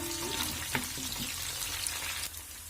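Green chillies fry in a pan for a tomato curry with coconut powder, giving a soft, steady sizzle with a few light clinks and stirring scrapes.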